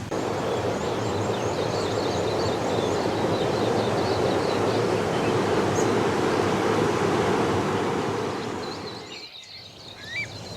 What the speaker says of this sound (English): got the sound of the river behind us